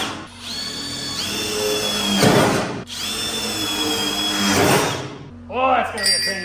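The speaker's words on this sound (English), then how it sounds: "Now we gotta drill some holes for the bolts" A power drill boring bolt holes in a truck body during a V8 turbo short-bed truck build, two loud sustained runs with whining pitch and a grinding bite as the bit cuts, then a short gap and brief further whirring.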